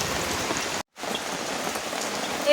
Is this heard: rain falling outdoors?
yes